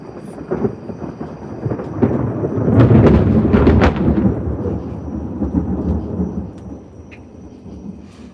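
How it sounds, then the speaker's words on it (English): Thunder from lightning striking a nearby field rolls in as a deep, loud rumble that swells to a crackling peak and slowly fades, with light rain hissing underneath. "That loud, bright light was lightning striking over in the field next to me."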